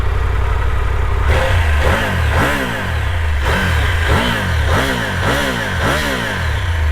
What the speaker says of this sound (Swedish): Och det jag gillar mest med den här hojen, det är ju motorljudet.